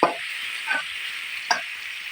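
Onions frying in a pan give a steady close sizzle, broken by three scraping stir strokes at regular intervals, with no talking.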